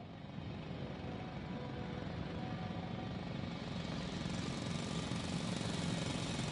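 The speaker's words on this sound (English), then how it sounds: "It's a drill." A drill running loudly inside the video game The Invincible, a steady, dense mechanical roar that holds at constant loudness for the whole stretch with no pauses or talk.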